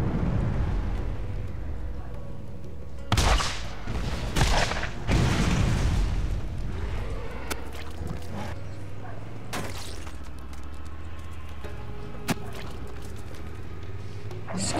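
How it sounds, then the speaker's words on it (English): A rocket launcher fires and explodes in the Borderlands video game, giving a few heavy, booming blasts in the middle of the stretch over a constant rumbling game backdrop, with faint voices in places. "This rocket launcher is kind of useless, isn't it?"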